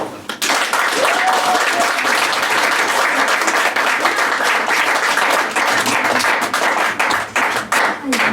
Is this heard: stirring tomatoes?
no